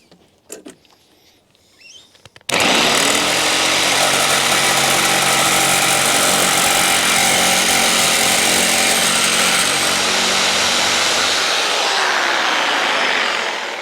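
After a few quiet knocks, a loud power tool whines steadily and without a break as it cuts through soft aluminium sheet for a fire surround wind break, close up and with no talking.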